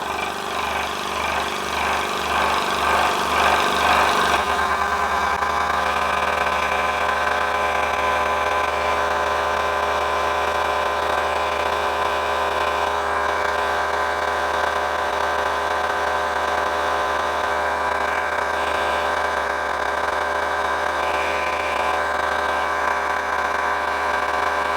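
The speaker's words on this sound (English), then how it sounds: "press the start button and the compressor will start" A Hill EC 3000 portable air compressor, connected by a Foster fitting, starts up after a short rhythmic pulsing and then runs with a steady, loud, continuous motor drone close by, with no talk.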